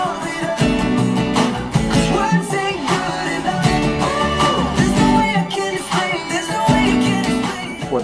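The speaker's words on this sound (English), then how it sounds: "We're going to start by learning how to strum the verse and chorus chords." Electric guitar strumming the verse and chorus chords of a song in a steady, driving rhythm, loud and continuous with no voice over it.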